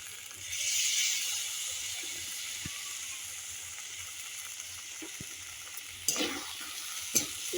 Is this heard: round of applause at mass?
no